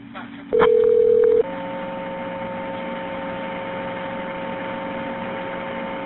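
Telephone line tones on a recorded 911 emergency call to a funeral home: a brief loud tone, then a steady humming tone that continues evenly to the end over faint line hiss.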